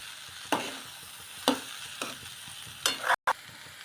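Sweetcorn chevdo being stirred with tomatoes in a frying pan, four distinct scraping stirs against a soft steady sizzle, close and clear with no talking.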